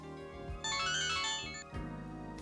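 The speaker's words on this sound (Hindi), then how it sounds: "मेरे ख्याल से आपका मोबाइल बजा" A mobile phone ringtone plays a bright, repeating electronic melody for about a second, loud and close, then gives way to a lower tonal pattern that continues to the end, with no talking over it.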